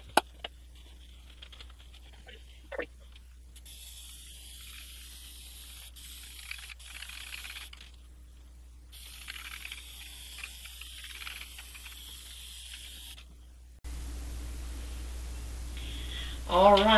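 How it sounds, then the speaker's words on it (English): Bursts of spray paint hiss from an aerosol can onto a cardstock stencil over a doormat rug, in several long pulses with short pauses, fairly close, over a low steady hum. "then we'll meet back to spray paint this"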